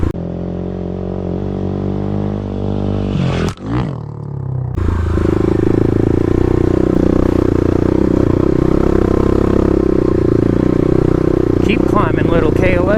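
A Kawasaki KLX351 dirt bike climbs a forest trail, its engine droning loudly near the rider, then cutting out briefly before surging back with a strong sustained roar and rattling clatter.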